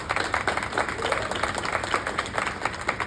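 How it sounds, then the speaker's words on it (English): At the close of a graduation speech at a Black student graduation ceremony, the audience breaks into applause. The clapping is moderate and uneven, with some crowd noise, and lasts a few seconds. "I wasn't expecting an applause to the end, but I'll take it."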